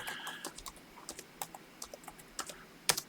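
Someone types a password on a computer keyboard, close and fairly quiet, with an uneven run of light key clicks and one sharper tap near the end.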